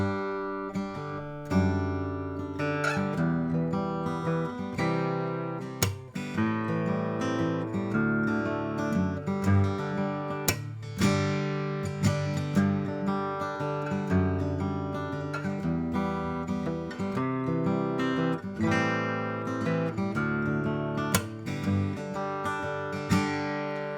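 An acoustic guitar plays a song, strumming mixed with percussive slaps on the strings in a steady, continuous rhythm, heard alone and close.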